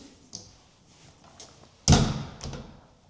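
A furniture cabinet door with a radius front in a wardrobe is shut a bit abruptly, giving one loud, close slam followed by a short rattle. Softer handling knocks come before and after.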